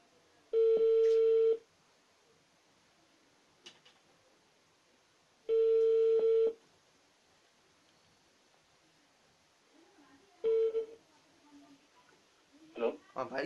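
Telephone call tones sound in a prank phone call, with two clear long ringback-style beeps and a shorter third, separated by quiet gaps, followed by faint rustling near the end.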